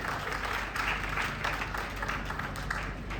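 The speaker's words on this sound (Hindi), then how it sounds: "जोरदार तालियां बजा दीजिए।" Crowd applause at a kavi sammelan poetry gathering in Meerut, a dense wash of clapping heard through a boomy hall sound with low rumble underneath.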